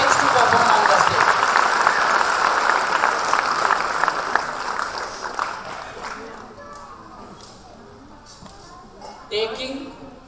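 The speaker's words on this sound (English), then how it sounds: "So clap loudly for all children." An audience at a school annual day claps loudly in sustained applause that gradually fades, with a few scattered claps and voices at the end.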